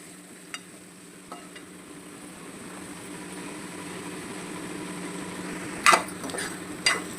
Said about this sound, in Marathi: व्यवस्थित असं परतवून घ्यायचं आपल्याला चिकन